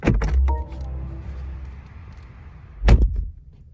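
A 2023 BMW i7's door, opened by a button rather than a handle, thuds shut with a solid clunk, followed by a low rumble and then another firm slam, close by.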